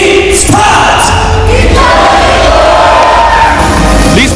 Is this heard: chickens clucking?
no